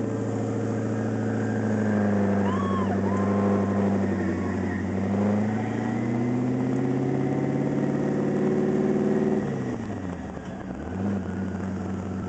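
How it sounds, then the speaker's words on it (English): Twin-turbo LS1 V8 swapped into a Mazda RX-7 FD, running close by with a steady droning hum and slight rev changes, dipping briefly near the end. "How's it feel with some load on the engine?"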